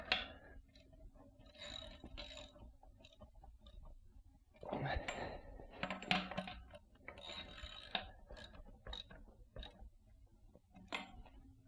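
Metal-on-metal ratcheting and clanking from a wrench tightening socket pegs on a BMX bike's rear wheel, in irregular bursts of clicks and scrapes at close range, with no talking.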